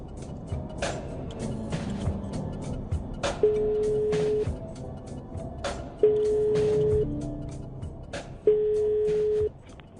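A telephone call to a bank headquarters in Geneva rings out in three long, even tones a couple of seconds apart, heard over a low background rumble with faint clatter.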